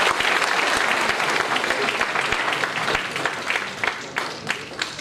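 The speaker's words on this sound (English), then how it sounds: "Let's give a big clap to it." Conference audience breaks into applause, dense clapping from a sizeable crowd that holds steady and then thins and fades toward the end, with individual claps popping out.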